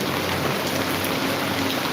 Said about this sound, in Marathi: पुण्यात खूप पाऊस चालू आहे